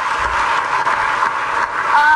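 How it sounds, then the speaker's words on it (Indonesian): A studio audience at a talk show gives steady applause for Ganjar Pranowo, governor of Central Java, as a dense clapping wash that holds for a couple of seconds. "Kasih tepuk tangan dong untuk Mas Ganjar"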